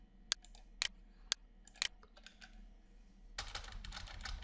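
A computer keyboard gives several sharp, close keypresses in quick pairs, followed by a softer burst of rustling clicks, heard alone in a quiet room.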